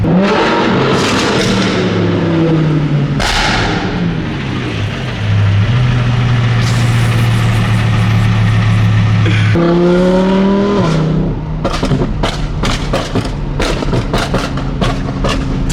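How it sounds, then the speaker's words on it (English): An Audi R8 with a loud flame tune revs and drops in a tunnel, echoing engine sweeps rising and falling, then a burst of sharp exhaust pops and crackles near the end, loud and close. "maybe I'll do one little pop in this tunnel"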